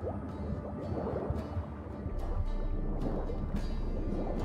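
Underwater swimming in The Witcher 3 gives a muffled, bubbling wash of water with soft splashes and gurgles, continuous and moderately quiet.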